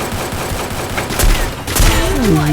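Gunfire in the Free Fire video game crackles in two loud, close bursts of rapid shots, with a lighter tonal game sound trailing after.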